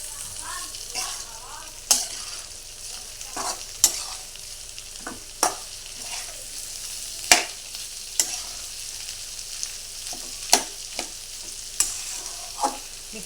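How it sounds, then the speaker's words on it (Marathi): Potato pieces fry in oil for sabudana khichdi, a soft sizzle broken by sharp scraping clicks of a spoon stirring against the pan roughly every second or two, close and without talk. "त्यात बटाटा टाकायचं बटाटा पण चांगला परतून घ्यायचा"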